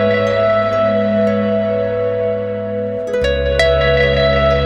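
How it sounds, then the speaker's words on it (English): A full-range electric harp fed through a Dark Star pedal, sustained ringing notes with a smooth, shimmering tail, then a new low note struck near the end with a bright pluck, steady and close, no voices. "And then I'm going to plug the full range of my harp into the Dark Star."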